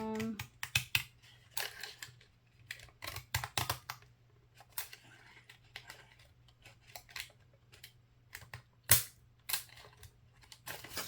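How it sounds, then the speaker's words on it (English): Scissors snip through paper for a vertical vacation planner layout, a close, crisp series of rapid cuts in uneven bursts with short pauses, alone over a faint low hum. "We're going to cut this all the way down."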